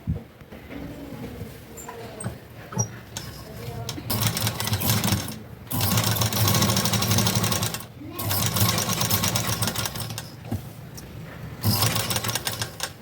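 A sewing machine stitches the lining of a blouse, running in four sustained, close, whirring bursts with short quiet pauses between them and light handling noises during the gaps.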